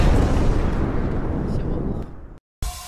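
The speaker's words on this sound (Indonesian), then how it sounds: "Ini monster, monster meledak." Loud rumbling explosion of a monster in a horror video game, with a long roaring decay that fades out and cuts to silence, followed by a brief burst of other game noise.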